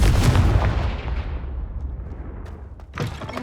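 A Confringo fire spell explodes in Hogwarts Legacy: one heavy, booming blast that rolls and fades over a couple of seconds, followed by a smaller second thump near the end, with no talking.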